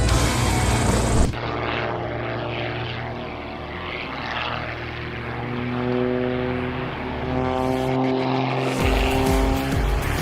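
A loud engine drone from an aerobatic plane roars steadily throughout, rising and falling as it passes close by, with a brief dip near the end.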